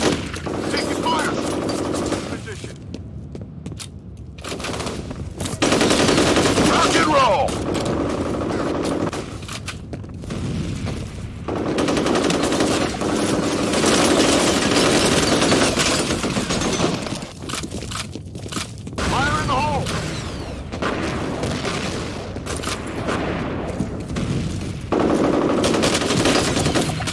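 Bursts of machine-gun fire and rapid gunshots from F.E.A.R. combat on the Factory map crackle in repeated volleys with short gaps, while game voices call out in between.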